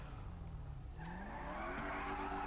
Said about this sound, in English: So let's just go and heat up these tyres some more.